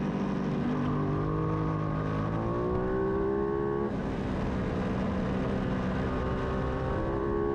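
Middleweight superbike motorcycles racing at Blackhawk Farms Raceway, engines whining loudly and continuously with rising and falling pitch as bikes accelerate and shift, a dense, steady roar throughout.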